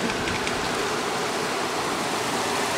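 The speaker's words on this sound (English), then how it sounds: "It's raining pretty hard," Heavy rain from Hurricane Irene in Brooklyn pours down in a dense, constant roar, loud and close, with no pauses.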